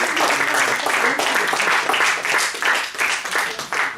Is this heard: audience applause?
yes